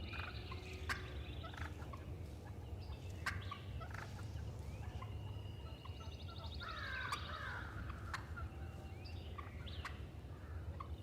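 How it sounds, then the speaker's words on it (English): Wild turkeys gobble repeatedly in spring gobbler season, faint and distant over a steady outdoor hiss, with several rattling calls overlapping and other birds calling now and then. "Spring gobbler season, that's when the turkeys are doing their strutting, doing the yakking, you know, talking to each other."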